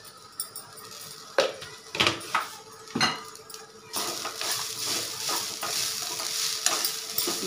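Sprouts with turmeric, chilli powder and salt stirred in a pan, with repeated close metal scrapes and clinks, then a louder continuous sizzle under the stirring.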